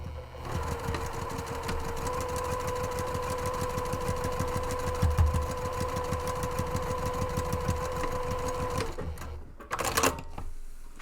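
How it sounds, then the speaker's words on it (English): A sewing machine stitches a seam across the base corner of a zippered tote bag, a fast steady whirring hum with rapid needle beats for about nine seconds, then stopping with a few short mechanical clicks. "stitch across here 5 inches to create the depth on this bag"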